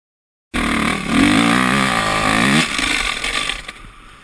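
A Yamaha motorcycle engine revs hard, the pitch climbing and wavering as the throttle is held open for a couple of seconds before dropping back to a rougher, uneven idle, loud and close with no talk.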